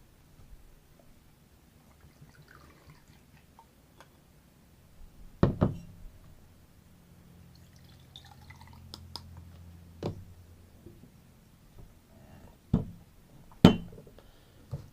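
Imperial barrel aged gin is poured over ice into a glass for a cocktail in a quiet room, with scattered soft drips, a brief low trickle and several sharp glass clinks.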